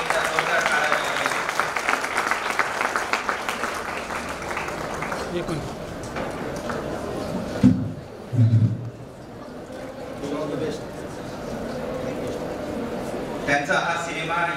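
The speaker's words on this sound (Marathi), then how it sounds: "सगळ्यांना विनंती की एकदा जोरदार टाळ्या वाजवायच्या" A crowd applauds at a film poster launch event, with a dense, sustained clapping wash over the first several seconds that fades into murmuring chatter and voices, with a couple of brief thumps near the middle.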